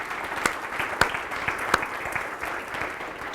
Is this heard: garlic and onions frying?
no